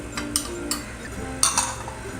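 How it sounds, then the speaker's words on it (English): A spoon stirs keto mug cake batter made with almond flour and unsweetened cocoa, giving soft scraping strokes punctuated by light, close clinks against the mug at irregular intervals. "Mix it and give it a nice stir."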